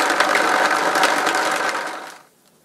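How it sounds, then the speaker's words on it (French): Blender mixing almonds and water for homemade almond milk, a loud steady grinding whir that runs continuously, then winds down and stops near the end. "Et c'est parti, on va mixer pendant 2-3 minutes."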